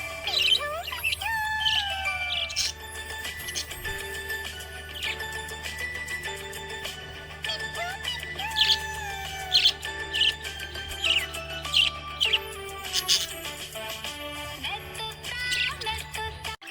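A happy budgie chirps in bright, rapid tweets and short warbling calls, loud and close, over a steady low background hum throughout.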